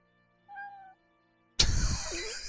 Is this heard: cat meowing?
yes